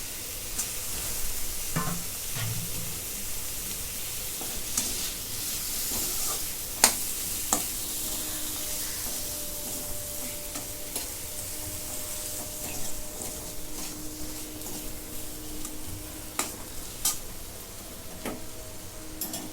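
Potatoes sauté in a hot pan for a spicy potato curry, with a soft steady sizzle, scattered light scraping and clinking from stirring, and a few sharper ticks along the way.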